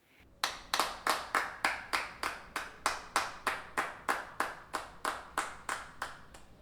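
One person claps hands in a steady, even rhythm of about twenty crisp claps, close and clear, with no voices.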